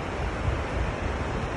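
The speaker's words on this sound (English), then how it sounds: "And there's a raging river here." A raging river below Takakkaw Falls gives off a steady, dense roar of rushing water, close and loud with no voices over it.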